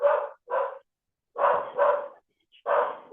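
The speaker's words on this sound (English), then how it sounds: "Can you hear my dog?" A dog barks upstairs inside a house, probably at the mail carrier: about five short, muffled barks come in two quick pairs and then a final burst, with brief silences between them.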